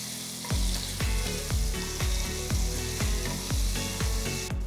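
Ginger garlic paste with cumin seeds, cardamom and bay leaf sizzles steadily in a pan over a low flame, with a series of regular stirring scrapes about every half second, close and fairly loud.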